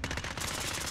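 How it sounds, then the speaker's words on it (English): Rapid automatic gunfire from Call of Duty: Modern Warfare, a dense unbroken burst of machine gun shots that fills the whole second loudly, with no talk over it. "Mitchell, my mag ran out and I still killed you."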